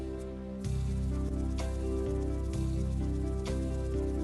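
Electronic keyboard plays a rhythmic accompaniment with sustained chords, a steady bass line and regular percussive accents, fuller and more driving than a plain basic beat.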